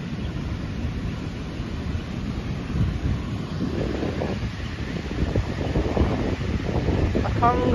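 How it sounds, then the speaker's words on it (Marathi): Sea waves on the Konkan beach at Guhagar on a cold early morning, a steady low surf rumble mixed with heavy wind buffeting the microphone, with a voice speaking over the later part. "अथांग पसरलेला असा हा समुद्र किनारा."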